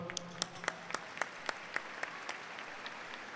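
Teachers at a panel event applaud in a sparse, faint scattering of claps, with a handful of distinct sharp hand claps spaced unevenly over a few seconds.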